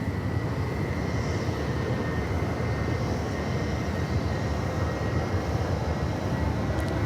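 Airliner at Sydney Airport rolling off runway 16 right, a steady, loud, broad engine roar that holds level throughout with no talking.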